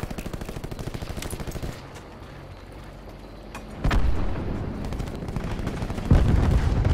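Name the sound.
gunfire in video game Call of Duty Black Ops 4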